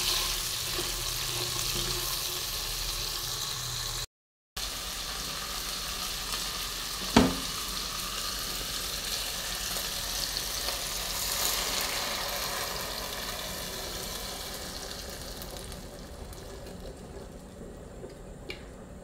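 Chopped tomatoes sauté in a pot for ginisang monggo, a steady close sizzle with occasional scrapes and stirring clatter, one sharp knock midway.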